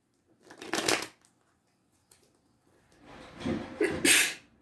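Two bursts of breathy noise, a short one then a longer, louder one, like sneezes close by, separated by near silence.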